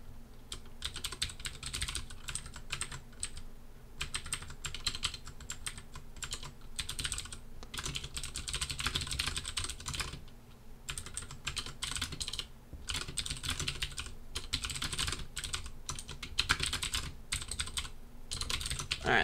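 Steady clicking of a computer keyboard during a computer science lecture, in continuous runs with brief pauses, close and moderately quiet, no voices.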